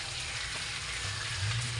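Food fries in a pan at home, a steady dense sizzle and crackle filling the whole moment, close and loud with no talk.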